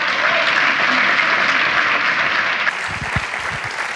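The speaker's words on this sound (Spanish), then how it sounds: "Dejaría estos aplausos que duraran mucho más" A lecture audience at a conference series applauds steadily, dense sustained clapping at a constant level with a slight shift in texture near the end, some low murmur underneath.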